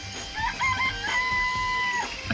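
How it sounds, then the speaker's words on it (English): Chickens in a coop in the video game Danganronpa give a drawn-out crowing call with clucks around it, clear and close over soft background sound. "I remember there were some chickens in the coop."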